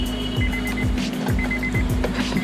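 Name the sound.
portable tire inflator pump running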